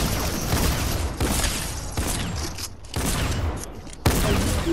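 Gunfire from a gun in the video game Fortnite rattles in loud sustained bursts with brief pauses between volleys, close and continuous, with no talking.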